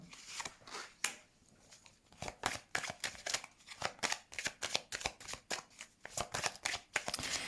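Oracle cards shuffled for a reading, a rapid series of crisp riffling bursts repeating in quick rhythm, close and fairly loud with brief pauses between, no voices.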